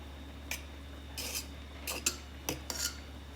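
A spoon lightly stirring flour into kroppkakor potato dough in a bowl, several quiet, brief scraping and clinking strokes over a low steady hum.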